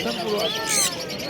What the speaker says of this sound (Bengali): এখানে ককটেল আছে